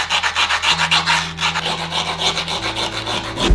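Skateboard griptape edge being rubbed to knock off grit and loose sand: loud, close, rhythmic back-and-forth scraping strokes with a low hum underneath, no voices.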